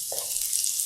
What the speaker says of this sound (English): Move this around a little bit. Just a quick stir.